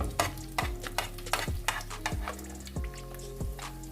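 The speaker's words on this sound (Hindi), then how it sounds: "अंडे भी फ्राई हो रहे हैं।" Eggs fully fried in a pan for breakfast sizzle steadily while a spatula scrapes and taps against the pan in a loose, repeating rhythm, close and clear, with no talking.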